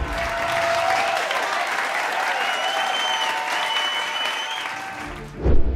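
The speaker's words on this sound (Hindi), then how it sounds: "9 मिनट तक तालियां बजाकर उनका स्वागत किया गया" A standing ovation at the Venice Film Festival: loud, dense, sustained applause from a large crowd, steady throughout before a brief swell at the very end.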